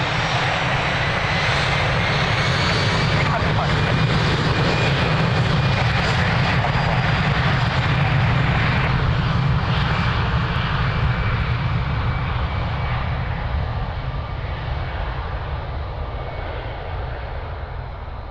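An airliner takes off from runway 02 at Lisbon Airport with a loud, sustained roar of engines that holds steady, then slowly fades and thins as it climbs away.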